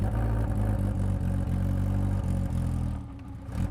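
A big car engine runs steadily while driving, a loud, close, low rumbling drone with faint clatter that eases slightly near the end.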